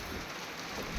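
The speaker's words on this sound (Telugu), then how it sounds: "సో ఫుల్ వర్షం అయితే స్టార్ట్ అయింది" Heavy rain pouring down in a village at dusk during a storm with lightning and thunder, a steady dense hiss filling the whole moment at moderate distance.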